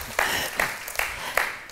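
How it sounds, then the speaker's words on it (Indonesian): A church congregation at a Sunday service claps in a few loose bursts, roughly four soft pulses spaced evenly, fairly distant and moderate in level. "Kasih tepuk tangan dulu teman-teman."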